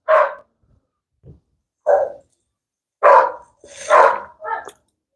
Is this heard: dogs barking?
yes